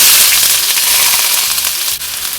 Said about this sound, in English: The oil is hot. I'm gonna add Vidalia onions and some chopped garlic